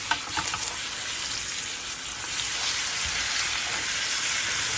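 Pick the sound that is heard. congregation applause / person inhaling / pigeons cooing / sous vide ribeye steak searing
sous vide ribeye steak searing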